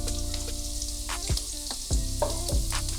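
Onions and curry leaves fry steadily in a pan with a continuous sizzle, while a few sharp scraping stirs knock through it, close and fairly loud with no talking.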